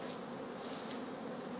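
Steady, dense buzzing of honey bees around beehives at a village homestead apiary in June, a continuous soft drone filling the space with no voices.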